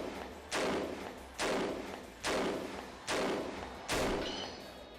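Video game gunfire as a magazine is emptied: five heavy, evenly spaced booming shots, each loud and close with a decaying tail, and no talk over them.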